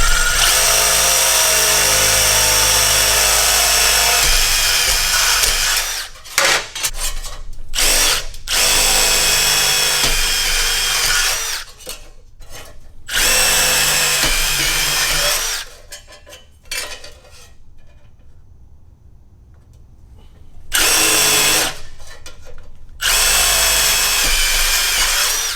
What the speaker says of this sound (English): Now that we got our holes marked, we can start drilling them out.